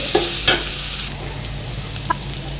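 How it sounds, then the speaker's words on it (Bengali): Potatoes frying in oil for a ridge gourd curry, with a steady close sizzle and a few sharp spatula scrapes and clinks. "খেয়াল রাখবেন আলুটা একটু ভালোভাবে ভেজে নেবেন"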